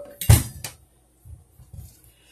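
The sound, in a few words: knife cutting tip off acorn squash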